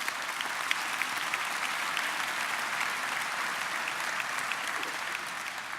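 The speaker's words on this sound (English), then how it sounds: "we deserve to give you a round of applause for precisely that point" A round of applause at the Regina Premier's Dinner, with a large dinner audience clapping in an even, sustained wash of sound that holds steady and loud from start to finish.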